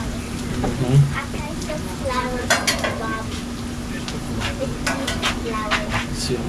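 Breakfast fries in oil on a Blackstone griddle, with a soft steady sizzle, scraping and clinks of a utensil against the metal surface, while people talk over it.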